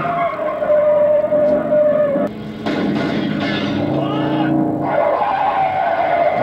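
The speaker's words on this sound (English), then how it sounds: "Nothing like an 80s car chase" A 1980s car chase in the film Cobra (1986): engines roar and tires squeal in long skids, with a sharp crash-like burst partway through and more screeching after it, loud and close.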